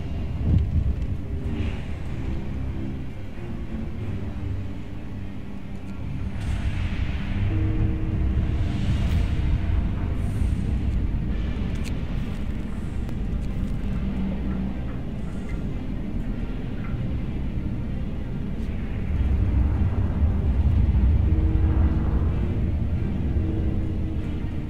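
A howling storm in the video game Frostpunk, heard as a steady, dense low roar and rumble that swells and eases over about twenty-five seconds with faint higher whooshes and no talking.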